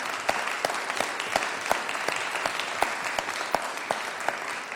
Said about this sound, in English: Let's give the entire panel a big round of applause.